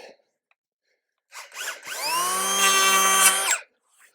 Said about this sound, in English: Now we plane all the edges just to make it look pretty.